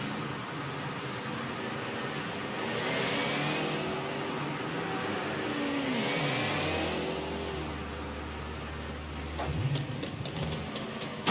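A car in the Mafia 3 video game drives up, its mid-pitched engine revving and then dropping to a low idle before a few clicks at the end, steady under a broad hiss.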